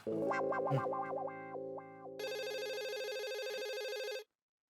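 A telephone ring processed with heavy distortion and chorus effects, a warbling electronic tone that shifts to a dense buzzing ring, loud and steady for about four seconds before cutting off abruptly.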